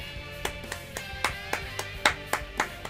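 Hand clapping: about ten sharp, evenly spaced claps at a moderate tempo, fairly close and clear over faint background sound.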